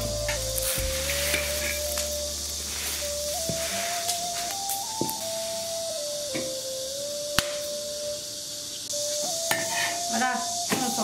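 Black locust flower pancake frying in a pan gives a constant bright sizzle with occasional scraping and stirring, close up and steady, with a faint sustained tone running underneath.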